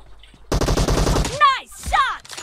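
Gunshots in PUBG Mobile, a rapid burst of automatic fire followed by a couple of sharp whistling ricochet-like sounds, loud and close, with a voice briefly audible.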